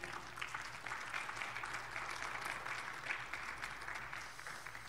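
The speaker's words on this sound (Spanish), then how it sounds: "Démosle palmas a nuestro Dios." Church congregation clapping to praise God during a sermon, a steady, moderately faint rain of hand claps lasting several seconds over a low hum, with no speech.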